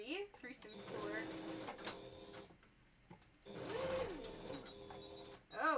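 A sewing machine stitches zigzags into a balaclava, two bursts of whirring, rhythmic mechanical stitching separated by a pause, with a person talking over and between them.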